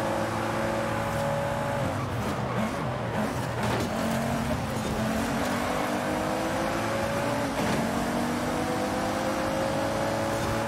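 A car drives steadily in Forza Horizon 5, its engine holding a continuous hum with gear-change pitch shifts. It stays alone and moderately quiet throughout.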